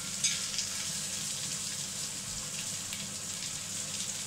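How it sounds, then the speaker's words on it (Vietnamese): Sausage fries in a pan alongside a German kale dish, giving a steady, close sizzle and crackle that holds evenly throughout with no voice over it. "các bạn chiên sơ vàng hai mặt"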